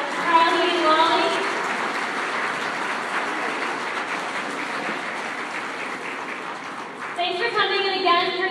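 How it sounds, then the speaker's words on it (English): An audience claps at the close of an event, a sustained wash of applause that swells briefly at the start and again near the end, with some talking mixed in. "We want to give another round of applause to Carly and Wally."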